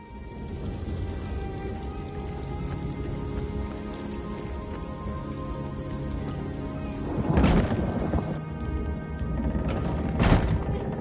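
A thunderstorm in the video game Elder Scrolls Online: steady heavy rain hisses throughout while two loud thunder cracks burst in near the end, the second sharp and close.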